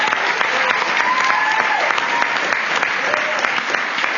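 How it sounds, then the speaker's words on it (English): An audience at a school district board meeting applauds Queen Creek High School students, steady dense clapping from a roomful of people that fills the whole stretch without a break. "let's give the Queen Creek High School CT students a round of applause"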